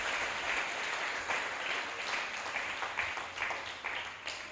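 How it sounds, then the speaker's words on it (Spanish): A church congregation breaks into steady applause during a sermon, a dense wash of many hands clapping at an even level throughout, moderately distant and without any clear voices over it. "Si le va a aplaudir, apláudale en este momento"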